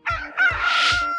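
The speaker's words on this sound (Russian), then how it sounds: "Rooster." A rooster crows once in a short, loud, close call made of a few rising and falling harmonic segments, heard alone without any voices.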